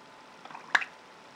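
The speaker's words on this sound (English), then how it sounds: "There you go, lots of bubbling, that little pop at the end." Fountain pen plunger pressed down in water, pushing ink out: a soft brief squishy bubbling ending in a small sharp pop, quiet and close.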